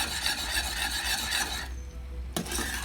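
Salt being stirred into a pan of honey and sugar syrup for honeycomb, a steady close scraping and rubbing of a utensil against the pan that pauses briefly near the end before resuming.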